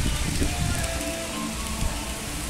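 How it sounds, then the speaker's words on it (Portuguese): Rain falls steadily outdoors during a strong, windy downpour, a dense continuous hiss and patter of drops on surfaces that stays loud and even throughout, with no talking. "Olha a chuva aí."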